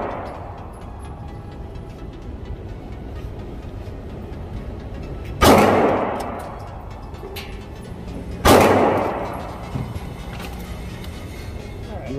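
Two sharp, loud handgun shots ring out at an indoor shooting range, several seconds apart, each a sudden crack with a short echoing decay above a steady background hum.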